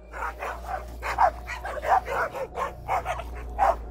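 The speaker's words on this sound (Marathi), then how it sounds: "तो कुंपणाबाहेरच्या एका चिंचेच्या झाडाच्या दिशेने पाहून जोरजोरात भुंकू लागला." A dog barks loudly and repeatedly, about nine sharp, close barks in quick rhythmic succession over a low steady hum.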